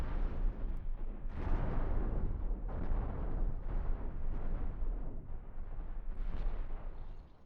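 Ship weapons firing in the space-combat game Cosmoteer, a dense, continuous barrage of booming impacts and blasts that rolls on without a break, loud and close.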